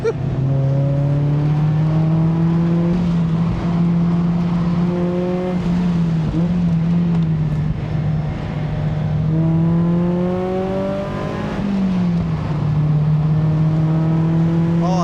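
A Mazda NC Miata engine drones steadily at high revs on a race track, pitch rising through gears and dipping on shifts, heard from inside the car.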